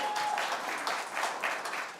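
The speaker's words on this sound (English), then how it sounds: "Applause, everyone." Light, fairly quiet applause from a small congregation at a Unitarian Universalist Sunday service, with soft, uneven claps over two seconds.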